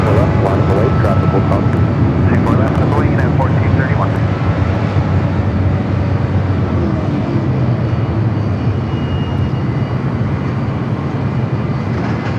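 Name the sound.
jet airliner taking off at LAX airport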